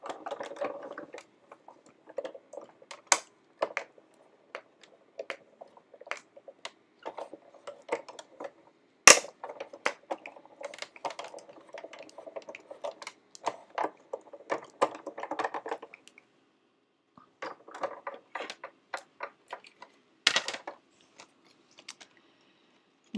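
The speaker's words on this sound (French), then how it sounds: "Je vais utiliser ma Big Shot pour faire ma découpe." A Big Shot manual die-cutting machine being cranked to cut paper for a handmade 3D card: quiet, irregular clicks, ticks and ratcheting rattles with a few sharper snaps spread across the stretch, and no speech.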